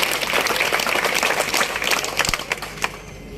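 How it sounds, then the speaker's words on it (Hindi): Dense, loud clapping from a big crowd at a BJP Parivartan Sankalp Yatra political rally in Kekri, a steady wash of applause that thins slightly near the end. "आपने लिए जोर से ताली बजाई।"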